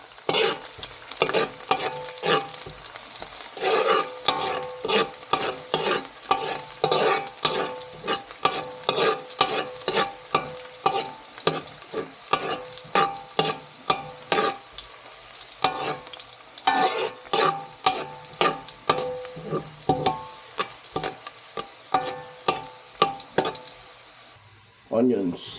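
Garlic fries in a pan and is stirred again and again, a steady sizzle broken by repeated scraping and clinking strokes from a utensil, close and clear, as the base for a beef caldereta.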